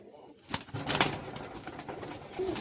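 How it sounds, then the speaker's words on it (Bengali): Pigeons for sale coo softly amid rustling and shuffling noises, fairly quiet and close by. "পাট্টা পায়রা দুটোই দেখে নিন"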